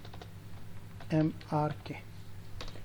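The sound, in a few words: typing on a computer keyboard in Excel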